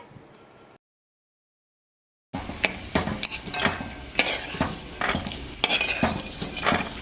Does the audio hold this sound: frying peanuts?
yes